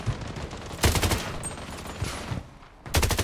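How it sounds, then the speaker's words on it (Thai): Rapid bursts of automatic gunfire in the shooter game Blood Strike, loud and close, with a long volley at the start, another burst near the middle and a final burst at the end, over steady game ambience. "โอ้ปืนยังรัว"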